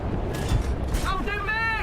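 A tank cannon firing in War Thunder, a heavy booming blast with rumbling low end, followed by mechanical clatter and in-game crew voices calling out.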